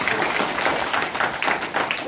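Attendees at a Korean reunification lecture clap briefly in a short burst of applause, a diffuse, moderately loud patter of hands that lasts about two seconds.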